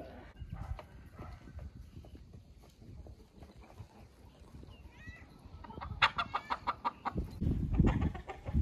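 Faverolles hens on a small farm cluck in short, close bursts that grow busier toward the end, over a low bed of scratching and shuffling noise.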